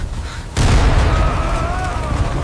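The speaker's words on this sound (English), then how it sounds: "enemy fire continues striking the walls around him" Enemy gunfire and artillery strike walls in a World War II city under constant bombing: a sudden heavy boom erupts after a short quiet lead-in, then a sustained loud rumble of blasts and gunfire carries on, with a faint tonal whine over it.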